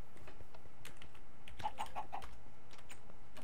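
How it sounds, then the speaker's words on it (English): Computer keyboard keys clacking in short, irregular bursts of typing during a Minecraft game, close and fairly quiet with a faint background hum. "I don't know why Minecraft is like deleting everything I type when I just hit backspace once"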